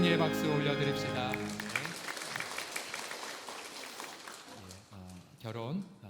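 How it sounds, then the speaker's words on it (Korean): Church congregation clapping together during a Sunday worship service in a Korean church, a broad wash of applause that rises out of fading organ and music and keeps going steadily before the music returns. "다시 한번 승리의 박수 올려드립시다"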